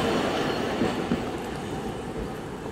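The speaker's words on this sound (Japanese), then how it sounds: "来た電車に乗りましょう" Steady rumble of a Hiroshima streetcar arriving at the Genbaku Dome-mae stop, with low mechanical noise and faint wheel clatter, fairly close and continuous.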